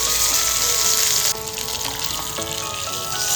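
Bhaakas fish fries in a pan with a loud, continuous sizzle and spitting of hot oil close by, the hiss dipping briefly before carrying on.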